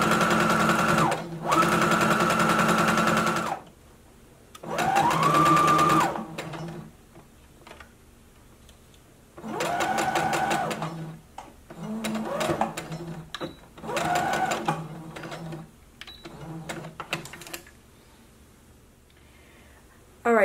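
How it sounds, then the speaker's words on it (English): A sewing machine stitches around a curved skirt pocket in several separate runs of fast, steady mechanical whirring, each a few seconds long, with rising whines as it speeds up and quiet pauses between runs where the fabric is pivoted. "as I'm sewing around the pocket, I like to use my hands to pivot around the curve"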